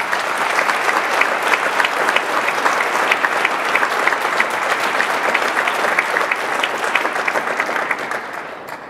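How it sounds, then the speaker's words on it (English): Sustained applause from a large audience honoring the memory of Martin Luther King Jr., dense steady clapping filling the hall at an even level before tapering slightly at the end. "give ourselves a round of applause for the memory of Martin Luther King Jr."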